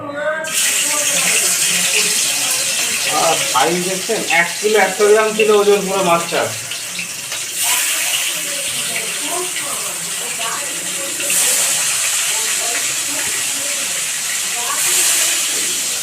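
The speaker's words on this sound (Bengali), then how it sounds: "তেল গরম হয়ে গেছে, এবার মাছ ভাজা শুরু করলাম" Pieces of a large shol fish, about 1.1 kg whole, hit hot oil with a loud, hissing sizzle that swells and stays steady, while someone talks over it at the start.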